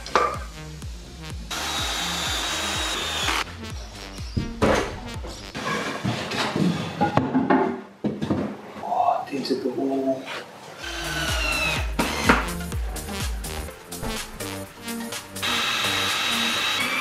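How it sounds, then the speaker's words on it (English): A power drill drives screws through a leg piece into wall studs while building a DIY 3D printer enclosure, with several close whirring bursts mixed with wood knocks and handling noise. "I've screwed it into the wall, into two studs, and then just put this as a leg coming down."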